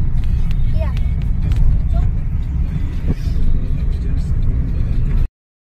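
A family car's engine hums steadily as it sets off at night on a full-moon evening toward Dikshabhumi in Nagpur, a constant close rumble with faint road noise throughout and a few brief light clicks.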